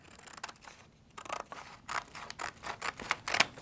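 Scissors trim apart a printed transfer design, a series of close crisp snipping cuts in an irregular rhythm, quiet and without any talking.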